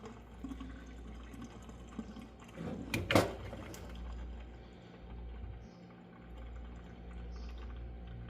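Water drained off boiled eggs in a short splashing pour lasting about a second, set against a steady low background hum, close by.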